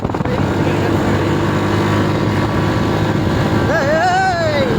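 A vehicle engine drones loudly and steadily as it climbs a hill road near a temple, close and constant throughout, with a voice breaking in near the end.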